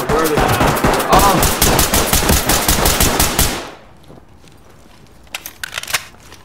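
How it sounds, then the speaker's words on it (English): Rapid automatic gunfire in the tactical shooter Ready or Not, a loud close burst of evenly spaced shots for about three and a half seconds. It stops abruptly, and a few faint scattered clicks and thuds follow. "Oh, okay, where are they shooting from?"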